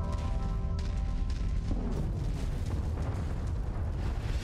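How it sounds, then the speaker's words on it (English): Heavy artillery explosions from chained artillery in Mechwarrior 5 Mercenaries rumble continuously, deep booming blasts overlapping into a loud sustained roar with no speech. "Alright, now we can chain together the artillery. We'll daisy chain the artillery together."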